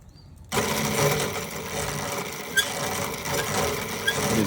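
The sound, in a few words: Vevor 1800W motor running in reverse, e-bike build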